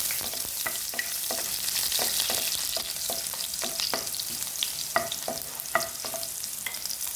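Garlic sautéing in a frying pan for pancit bihon, a steady close sizzle with repeated sharp scrape-and-stir strokes of a utensil against the pan throughout.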